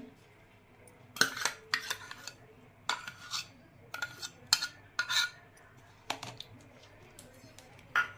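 Cake batter of butter and maida being beaten in a bowl, heard as irregular bursts of spoon or whisk clinking and scraping against the bowl, close and fairly quiet, with brief pauses between strokes.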